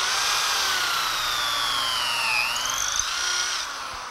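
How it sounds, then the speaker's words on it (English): An aluminum 3-in-1 pocket hole cutter drills pocket holes in wood stock through hardened bushings, a close, whining power-drill run with pitch shifting as the bit loads and frees, then trailing off. "just hardened bushings, just drill the hole."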